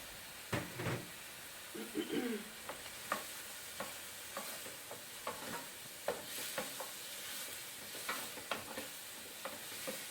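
Onions and garlic sizzle softly in a pan with a steady hiss, punctuated by occasional scraping stirs and light utensil taps.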